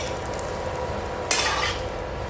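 A paratha fries in a pan with a steady, close sizzle, brightening briefly with a louder hiss partway through as the flatbread puffs in hot oil.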